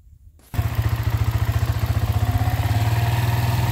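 A small motorcycle engine starts after a brief quiet moment and then runs steadily nearby, giving a loud, rhythmic putt-putt idle with a clattery mechanical tone.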